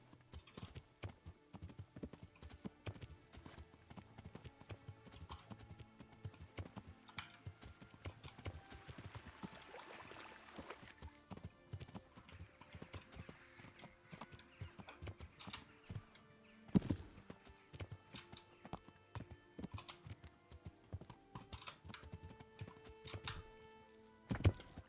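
Hooves clip-clop steadily on the ground as a horse moves around a horse farm in Kingdom Come: Deliverance, quiet and fairly close, with a heavier thump near the middle and a brief whinny.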